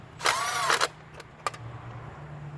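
An impact driver snugs spark plugs on a 1993-1997 Honda Accord: a short rattling burst of whirring hammering, then two quick taps, over a low steady hum, with no talking.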